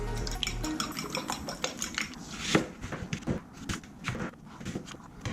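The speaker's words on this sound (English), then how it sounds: "I then prepare and crack open my eggs ready to make my scrambled eggs" Eggs are cracked into a bowl for scrambled eggs, a run of close clinks, taps and wet drips on the bowl, followed by light clattering of kitchenware.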